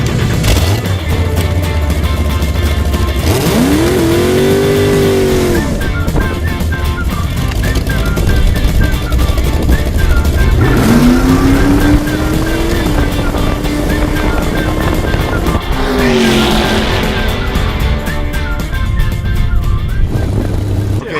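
A car on a reaction-time drag race run revs and accelerates hard repeatedly, engine pitch climbing in loud sweeping bursts over a constant rumbling drone, with no voices present.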